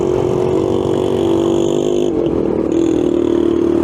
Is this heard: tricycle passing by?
yes